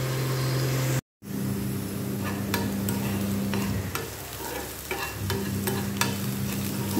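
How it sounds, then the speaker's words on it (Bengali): Ingredients for sago pulao fry in a pan with a steady close sizzle, broken by a brief silent gap, with scattered clicks and scrapes of stirring throughout; no one speaks. "এগুলো একটু ভালোভাবে ভেজে নেব।"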